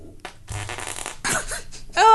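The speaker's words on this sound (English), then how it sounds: "just farted on command" A man breaks wind on command during a podcast recording, giving a short, close, sputtering fart, followed by a brief louder burst and room noise.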